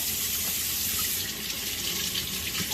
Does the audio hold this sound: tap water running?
yes